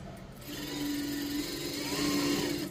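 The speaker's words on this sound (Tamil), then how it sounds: "அதாவது லைனிங்கும் ஒரிஜினலையும் நம்ம வந்து இப்போ ஸ்டிச் பண்ணுறோம்" A sewing machine stitches a lining to the main fabric of a pot-neck piece, a steady close mechanical whirr that runs continuously for a few seconds without talk.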